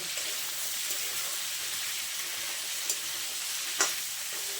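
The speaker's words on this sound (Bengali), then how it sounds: "আবারও কিছুক্ষণ আমি আলু বীজ ভাজা ভাজা করে নেব।" Sliced potatoes and jackfruit seeds, seasoned only with salt and chilli, crackle and hiss as they fry in a pan, a constant bright sizzle with a couple of faint stirring scrapes and no speech.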